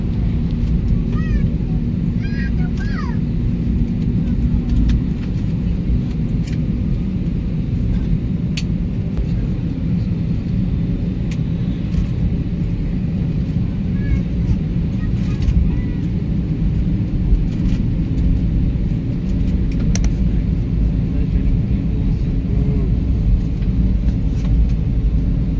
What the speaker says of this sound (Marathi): आत्ता प्लेन रनवेवरून स्टार्ट झालेला आहे.